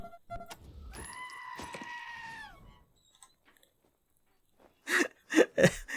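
A goat in the video game Wasteland 2 gives a long, nasal bleat of about two seconds, then a pause before a few harsh, breathy sounds close by.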